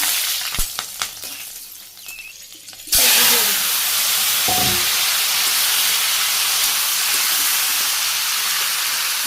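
Bay leaf, cumin, fenugreek, ginger and three green chillies drop into hot oil in a Bangladeshi village kitchen. After a few light clinks, a loud, steady sizzle bursts out and continues without a break.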